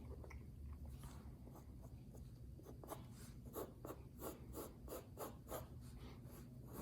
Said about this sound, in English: I'm gonna draw the eyeball back a little bit for you so you see how it sits in the socket.